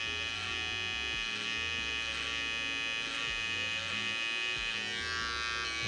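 Electric hair clippers cut a taper fade, a continuous close buzzing hum with a slight rhythmic wavering as the clippers pass over the hair, steady and unbroken with no talking.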